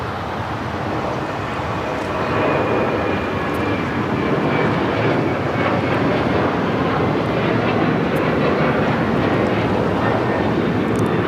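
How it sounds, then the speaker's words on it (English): Alaska Airlines Boeing 737-900ER taking off at LAX, a loud sustained jet roar with a thin high whine, rising a little early on then holding steady and close, no speech. "This is Alaska Airlines 1418 taking off to Guadalajara on the 737-900ER."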